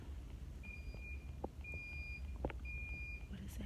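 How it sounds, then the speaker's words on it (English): An electronic alarm sounds outside a classroom, its steady high tone repeating three times at an even pace, each beep about half a second long, faint and distant behind room noise and a few clicks. "what is that noise? It's like an alarm going off"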